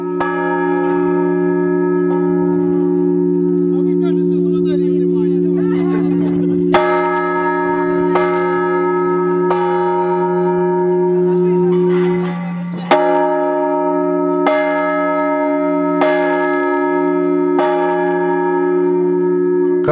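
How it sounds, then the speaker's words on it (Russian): The largest of eleven newly consecrated church bells rings out loud and near, giving repeated heavy strikes with long, sustained humming resonance that swells and fades between blows. "Огромной радостью для собравшихся стала возможность самим позвонить в самый большой из 11"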